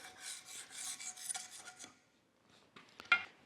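A metal pick scraping built-up crud and junk out of the keyway of a Sellers 6G drill grinder, giving a close, dry rasping burst of scratches for about two seconds, a pause, then a few sharper clicks and scrapes.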